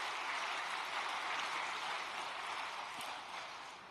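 A church congregation applauds in thanks, a dense, even wash of many hands clapping at a distance, holding steady before easing slightly toward the end.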